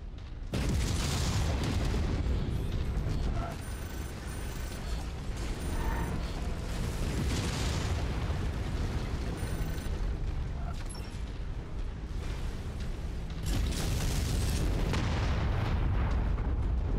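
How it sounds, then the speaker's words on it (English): Buildings are blown up in MechWarrior 5 amid a dense, continuous roar of explosions and heavy mechanical rumbling, loud and unbroken, with scattered sharper bursts. "we're blowing up buildings"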